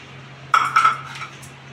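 Pizza toppings (capsicum, onion, tomato) dropped into a pan in a baati cooker give a couple of quick clinks and taps of metal, close and brief over a steady low hum.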